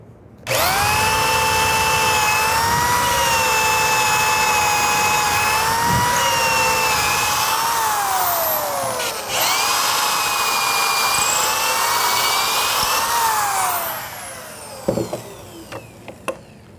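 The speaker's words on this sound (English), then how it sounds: "Clamp that into the jig and then drill a couple of holes." A power drill whines steadily at high speed for several seconds, pauses briefly, then runs again before winding down, with a few clicks at the end, drilling pocket holes in wood clamped in a jig.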